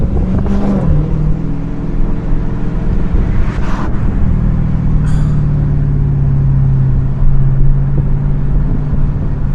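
A 717 HP Dodge Hellcat pulls hard under acceleration, its loud, steady low engine drone rising and then dropping as the transmission shifts, with brief wind and mechanical bursts over the continuous roar from inside the cabin.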